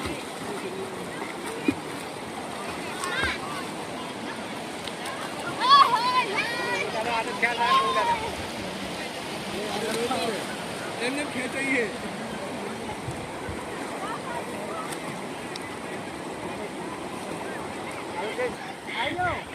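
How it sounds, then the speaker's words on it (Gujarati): Continuous flowing river water with scattered splashes from people bathing at the bank, distant voices and chatter mixed in throughout. "આગળ તો પાણીનો પ્રવાહ વધારે છે એટલે એ તટે જ નાહી રહ્યા છે"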